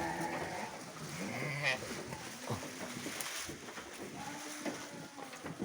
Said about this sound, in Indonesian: untuk jenis kambingnya ada Jawa Randu, itu Bligon, ada kambing kacang yang sudah silangan juga